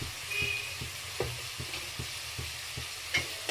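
Onions frying with ginger-garlic paste in a pan for a gongura chickpea curry, with a soft steady sizzle and regular light stirring taps, close and fairly quiet.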